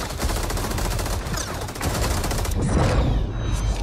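Sustained rapid gunfire from Johnny Cage's gun in Mortal Kombat 11, a dense, loud stream of shots running continuously with a brief shift in tone partway through.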